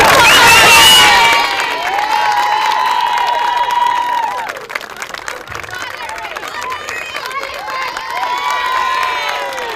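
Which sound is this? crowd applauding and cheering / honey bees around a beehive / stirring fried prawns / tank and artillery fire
crowd applauding and cheering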